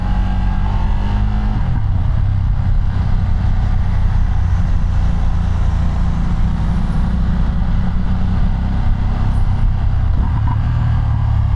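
Ducati Multistrada V2 motorcycle engine running under load, a loud continuous low rumble with wind noise and a shift in pitch near the start as it downshifts.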